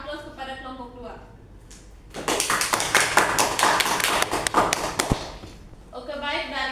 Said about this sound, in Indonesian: Mari kita beri aplaus kepada kelompok 2